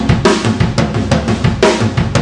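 A drum kit drives a linear pattern variation, crisp interlocking hits of hi-hat, snare and toms in a steady, busy rhythm, loud and close with no talking.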